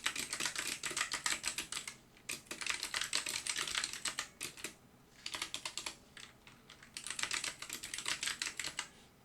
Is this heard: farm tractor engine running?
no